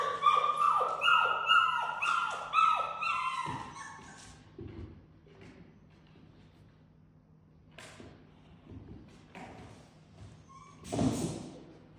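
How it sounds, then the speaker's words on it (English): A puppy whines and yelps in rapid, high-pitched bursts, then quiets to occasional soft whimpers and thumps, with one more short cry near the end. "you can hear him kicking up quite a fuss"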